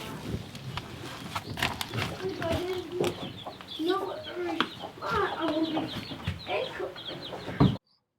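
Free-range backyard chickens cluck repeatedly at close range, with bursts of rooster-like calls over a steady farmyard background, and people speak in between.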